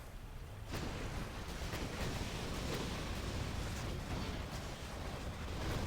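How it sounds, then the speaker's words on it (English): Rockets and explosions in a Rise of the Reds battle come as a sudden, loud burst that swells into a steady, dense roar of overlapping blasts and rumbling noise, with a few sharper hits poking through. "Rockets, explosions,"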